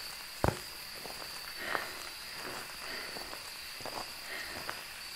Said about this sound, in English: was it just my stupid footstep?